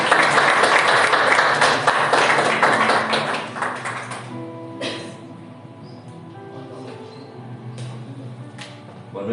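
Church congregation applauding during a Sunday family service, a dense wash of clapping for about four seconds that thins out and fades into a quieter room with scattered sounds.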